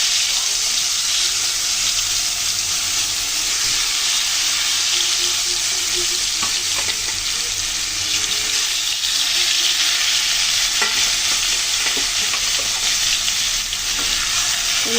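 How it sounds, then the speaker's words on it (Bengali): Fish sizzling steadily in hot oil in a wok, a dense continuous frying hiss with occasional soft clinks and pops, loud and close throughout, no talking. "মাছগুলো আগে ভালো করে ভেজে নেব।"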